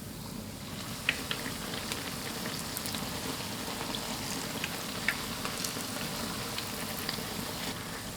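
Flour-and-water dough cakes frying in oil heated to medium temperature, a soft continuous sizzle with faint crackles and occasional small pops, quiet and steady with no talk.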